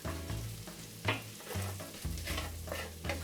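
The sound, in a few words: stirring bacon and sausage in frying pan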